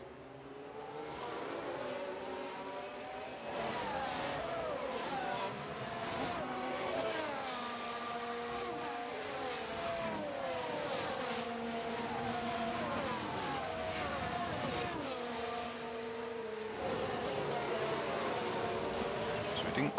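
F1 race cars in the F1 Manager 2023 game scream past in a dense, steady roar of shifting engine pitches that carries on throughout, with a voice speaking over part of it.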